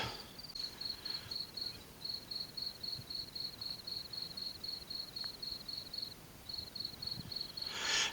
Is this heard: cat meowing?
no